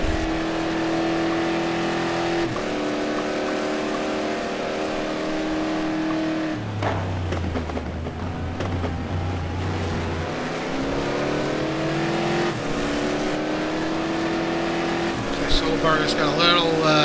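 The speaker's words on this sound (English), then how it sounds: "We got a Ford Chevy battle, Camaro versus Mustang." GT2 race cars, a Ford Mustang and a Chevy Camaro, battle at Hockenheim with engines revving up and down through shifts and a brief tire squeal, loud and continuous under race commentary.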